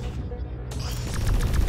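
Explosions and gunfire crash loudly in the sci-fi tower-defense video game X-Morph: Defense, a dense rumbling barrage that thickens toward the end with repeated sharp blasts.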